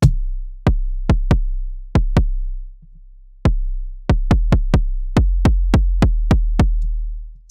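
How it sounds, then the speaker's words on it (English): A synthesized sub kick thumps in a loose, uneven pattern, each hit a sharp click followed by a deep, sustained low boom that decays slowly. There is a short gap in the middle before the hits resume more densely, with no voices present. "we're going to work on this sub kick over here"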